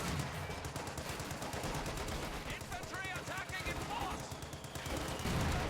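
Steady rattling machine gun fire with scattered gunshots fills a strategy war game battle near a bridge, dense and continuous throughout, with a voice talking underneath.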